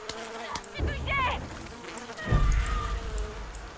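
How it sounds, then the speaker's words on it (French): Bees swarming in Far Cry 5, a steady insect buzz that swells and fades over a few seconds amid game sounds, with a brief voice partway through. "Elle s'est fait annihiler par les abeilles."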